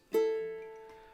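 Two bottom ukulele strings plucked together once, ringing out clearly and slowly fading, alone with no talking, in a finger-picking pattern.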